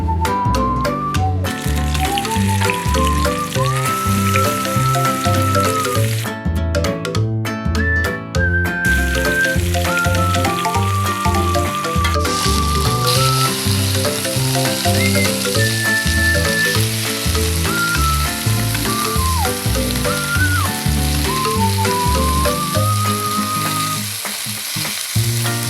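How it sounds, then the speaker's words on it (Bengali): Fresh river baila fish fry in oil in a wok, giving a steady, continuous sizzle that runs beneath melodic background music throughout. "কড়াইতে তেল দিয়ে মাছগুলো ভেজে নেব"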